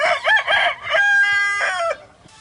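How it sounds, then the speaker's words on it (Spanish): A rooster crows loud and close in one long, drawn-out call that rises and then falls away, followed by brief quiet. "El presumido gallo canta, aunque solo tenga 2 tonos."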